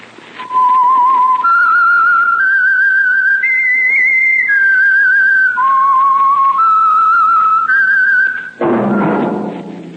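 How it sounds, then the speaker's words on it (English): A clear, loud whistled melody, the signature theme of the radio drama The Whistler, moves in steady held notes stepping up and down for about eight seconds before ending in a thud. "That whistle is your signal for the Signal Oil Program, The Whistler."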